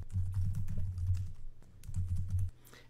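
Steady keyboard typing on a computer while entering text into presentation slides, two bursts of rapid clattering keystrokes separated by a short pause, close and clear with no voices.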